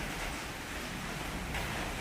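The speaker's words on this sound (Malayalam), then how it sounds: "നല്ല മഴയുണ്ട്" Heavy rain falls steadily outdoors near a home, a continuous broadband hiss of even loudness with no clear individual drops and no voices over it.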